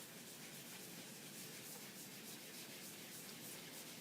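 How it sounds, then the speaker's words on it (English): A damp rag rubs back fresh paint on a painted wooden bench, a steady, continuous soft scrubbing hiss, faint and close, with no talk over it. "And then I'm going to take my damp rag, and I'm just going to rub back."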